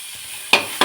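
Okra frying in butter in a pan: two sharp, loud bursts of sizzling as the pieces are stirred, heard close up over a quiet background hiss.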